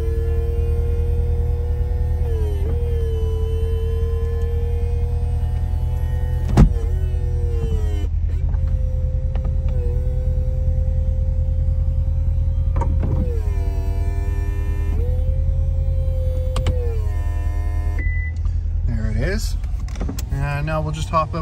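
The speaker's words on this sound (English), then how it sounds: "since this is a convertible, we'll go ahead and put the top up so you can see the operation" Electric motor whine of a 2017 Corvette C7 convertible's power top raising, steady droning with several pitch shifts and stops as the mechanism moves, a sharp click partway through, over a constant idling engine rumble.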